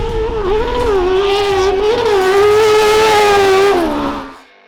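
A loud, close Weller Racing SR-1 race car engine with a small muffler revving toward 13,800 RPM, with a rising, wavering pitch, holding high before dropping off abruptly into quiet.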